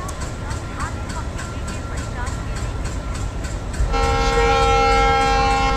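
A train runs on an Indian Central Railway route near Nagpur in the video game Train Simulator, with a steady rumbling roll, then a loud, sustained horn blast that holds through the final seconds.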